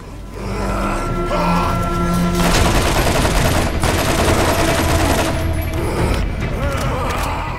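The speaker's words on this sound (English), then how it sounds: "Let's use this one. A good old machine gun." Sustained loud machine gun fire in the video game Borderlands, a dense continuous fusillade of rapid shots close up that runs for several seconds.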